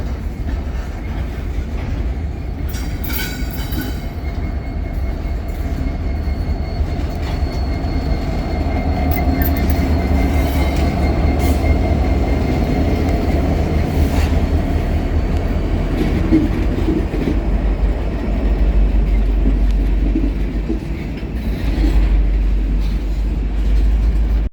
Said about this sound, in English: catch NS 345 departing Irondale with SD70 ACE NS 1162 leading the way